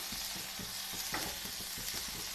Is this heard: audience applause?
no